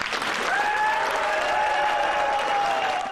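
An energetic crowd at the Rochester Eagles Club applauds Senator Rand Paul, steady loud clapping with a few whistles rising over it, continuing throughout.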